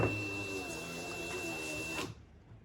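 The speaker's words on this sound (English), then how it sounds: "now we're going to roll the trolley all the way up" A trolley rolls along a door sill rail on a Ferrari F40 stand toward a microswitch, giving a steady mechanical whir for about two seconds that cuts off abruptly, close and moderately loud.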